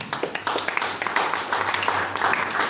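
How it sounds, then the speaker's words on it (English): Audience applause after a goodwill message at a local government inauguration of field marshals in Bassa, a steady dense patter of many hands with scattered louder claps, moderately distant, with faint voices underneath. "A round of applause for this wonderful presentation, goodwill message by Abdul Karim Gambo"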